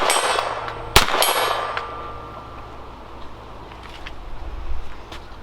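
A .22LR round strikes a steel gong target with one bright metallic clang that rings on for a while, followed by a few faint ticks and quiet background.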